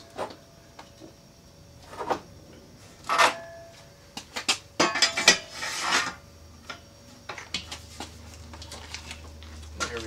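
A large wrench threads a metal pipe into a propane tank being converted to an air tank, giving bursts of scraping, rasping metal-on-metal turns with short pauses and clanks, close by and fairly loud.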